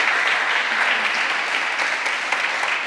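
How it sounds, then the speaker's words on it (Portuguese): Church congregation applauding during a sermon, a continuous, fairly loud wash of many hands clapping throughout, with no voices rising above it. "Pode aplaudir a Ele"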